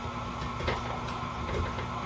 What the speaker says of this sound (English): mixer is struggling a little bit